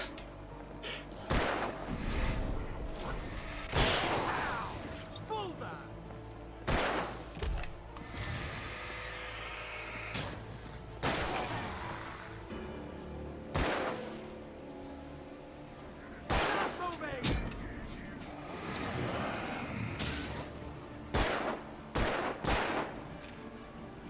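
Repeated bursts of gunfire in the Alan Wake video game, loud sharp shots and short volleys spaced irregularly, with mechanical clanks in between over a steady background.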